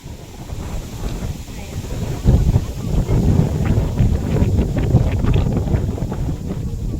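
Steady, strong wind buffets the microphone throughout on a hot, open hillside lot near a windmill, a loud continuous rumble with gusts swelling midway and no voices.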